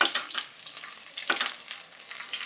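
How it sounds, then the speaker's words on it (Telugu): Shallow frying in a pan while ingredients brown for a prawn biryani base, a crackling sizzle rising and falling in bursts with stirring scrapes, close up and moderately quiet, no voices. "మంచిగా మనకి ఈ బ్రౌన్ కలర్ వచ్చేలాగా వేపుకోవాలండి"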